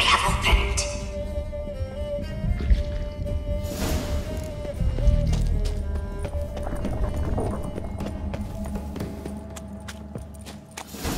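A horse gallops with continuous rhythmic hoofbeats and harness jangling in the video game The Witcher 3, close and steady over a musical drone.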